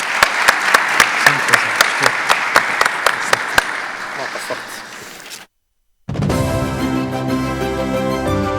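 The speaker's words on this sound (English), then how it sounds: "Please give a warm round of applause for our fantastic panelists." An audience at a capital market conference in Muscat, Oman applauds panelists, with steady clapping that fades out, a short silence, then music begins.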